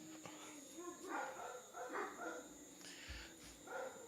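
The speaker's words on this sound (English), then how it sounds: "Is this dog mocking me?" A dog gives a few faint, short barks and yips in the distance inside a noisy goat barn at a show, with no speech.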